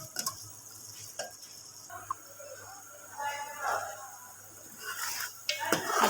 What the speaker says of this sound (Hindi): अभी इसको हम ना अच्छी तरह से ना सारा मैश कर लेंगे।